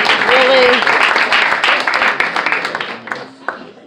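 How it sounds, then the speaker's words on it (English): Loud applause and scattered clapping from guests at a clergy council dinner, with a voice briefly audible over the crowd as the clapping thins out toward the end. "So let's give yourselves a hand clap tonight."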